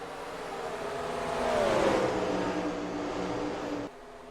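Race cars accelerating on a restart at Watkins Glen in a racing sim, a blended engine roar that swells and pitches up as the pack gets underway, then drops off abruptly.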